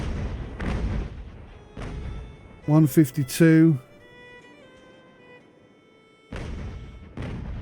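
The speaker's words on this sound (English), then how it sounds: "Finally, we unleash some cannon fire." Heavy cannon broadsides from sailing warships in the naval strategy game Ultimate Admiral: Age of Sail, several booming volleys at the start and again near the end, with a brief spoken interjection between them.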